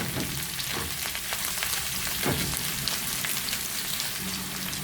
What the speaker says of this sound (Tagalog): in the same pan, add 1 teaspoon of cooking oil and continue to cook our onions